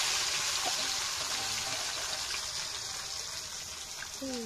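Water poured into a cooking pot on a wood-fired village hearth while potatoes and whole spices cook, a loud continuous gushing splash close by with faint background voices.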